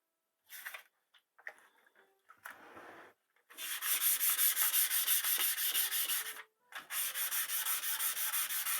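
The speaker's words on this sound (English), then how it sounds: "we're just going to take some wet dry sandpaper. We're going to work this at about 400 grit." Wet-dry sandpaper at 400 grit rubs along a Remington Nylon 66 rifle barrel. A few short scratchy strokes are followed by long, close, steady sanding passes, briefly paused, with no voices.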